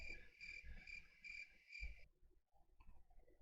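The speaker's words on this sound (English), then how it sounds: "crickets," Crickets chirp in a steady, rhythmic series of bright pulses, faint but clear. A few scuffing noises follow and nobody speaks.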